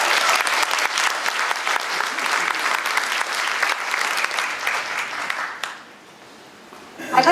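An audience at a San Francisco State College strike 50th anniversary commemoration breaks into sustained, dense applause and cheering that fills the room for over five seconds, then drops away to near silence before a brief burst returns at the end.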